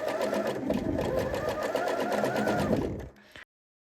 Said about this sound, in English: Then I sew forward without moving my fingers.